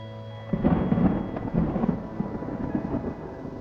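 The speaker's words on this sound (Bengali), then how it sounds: "ঘটনাচক্রে এখন বৃষ্টি নেমেছে।" Rain falls on hills near Bijanbari, seen from a cottage balcony, with a deep rolling rumble of thunder building after a quiet start over a steady wash of rain.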